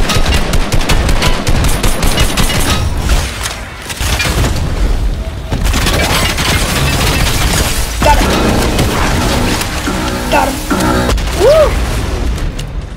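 Loud, continuous video game gunfire with rapid bursts and heavy booms, near and dense throughout, plus mechanical clanks and a faint voice beneath.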